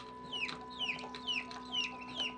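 Incubator-hatched ducklings call in a quick run of five high, descending peeps at an even rhythm, fairly close, over a faint steady hum.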